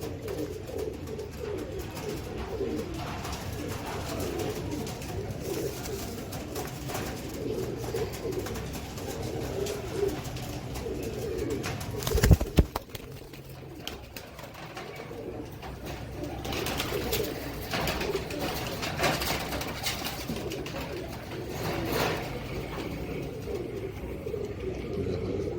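Dub and Tiger breed pigeons coo steadily throughout in a low, rolling murmur, several birds overlapping, with a brief rustling thump partway through.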